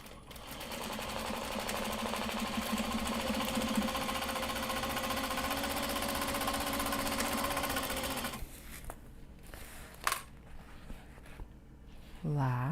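A sewing machine runs a long, steady, buzzing stitch along fabric seams for about eight seconds, then stops, leaving quieter handling noises and a few brief clicks.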